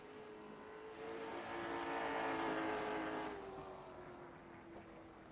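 A late model race car engine lapping Langley Speedway before a race, a steady droning hum that swells as the car draws nearer around the halfway point and then fades as it moves off, heard alone and at a distance.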